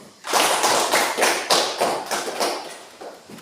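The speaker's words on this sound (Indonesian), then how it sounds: "Oke, kita berikan aplaus." A class of children applauds in a classroom, with loud, close, dense clapping that starts abruptly and keeps a steady pulsing rhythm for a few seconds before easing off slightly.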